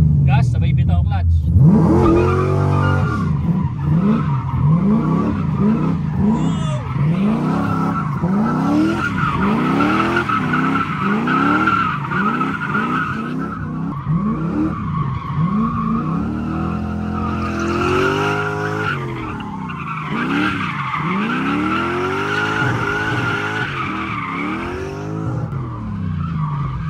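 1980 Toyota Corolla KE70 engine revving hard as the clutch is released, with long sweeping rises and falls in pitch and tires squealing, loud and close throughout.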